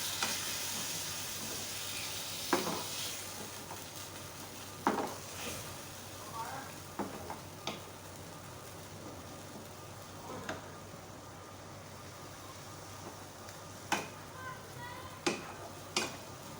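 Boneless chicken cubes fry in a pan with garlic-ginger paste, giving a soft, steady sizzle with occasional sharp clicks and taps of stirring, fairly close but quiet throughout.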